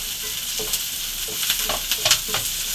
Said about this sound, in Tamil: நல்லா வெங்காயம் வதங்கட்டப்பா வதங்கவும் பார்த்துக்குவோம்